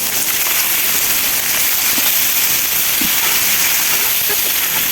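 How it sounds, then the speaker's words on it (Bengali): Fish fries crisply in a pan, a loud, steady hissing sizzle that fills the whole stretch with only small pops and crackles breaking through and no talking. "এই যে আমার মাছ ভাজা হয়ে গেছে, একদম ক্রিস্পি ক্রিস্পি করে"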